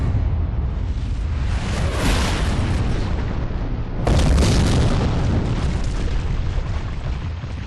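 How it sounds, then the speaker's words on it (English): Bomb explosion in the adventure game Secret Files 2: Puritas Cordis: a loud, sustained roaring blast that swells, then bursts again midway with a second surge of rumbling debris, dense and close throughout. "The bomb! They triggered it remotely!"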